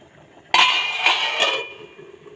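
Chicken roast stirred in a pot, heard as a short close burst of metal clanking and scraping of a utensil against the pot, with no talk.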